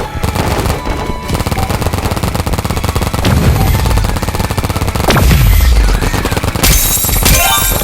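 Loud, rapid automatic gunfire rattles almost without pause in a paintball video game, with a few heavier booms breaking through the continuous bursts.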